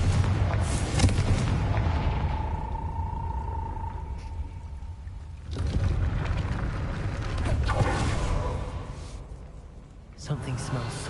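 Confringo blasting curse exploding in Hogwarts Legacy, a series of booming, rumbling blasts and game effects filling the scene, with a voice calling out the spell beforehand.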